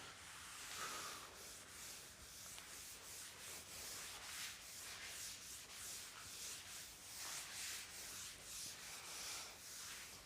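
A classroom board is rubbed clean with an eraser, a close, continuous rhythmic scrubbing that swishes back and forth at a steady pace throughout.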